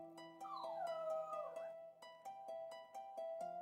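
A cartoon dog in the PC game Hero-U: Rogue to Redemption gives a rising then falling whimpering whine over a steady synthesized music bed, with short repeated game sound effects ticking along beneath it.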